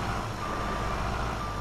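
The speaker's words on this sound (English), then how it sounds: "Alright, I'm gonna get this truck turned around here quick." Reversing beeps from a truck on an Iowa farm, a steady loud repeating alarm tone over engine rumble, close by and heard alone.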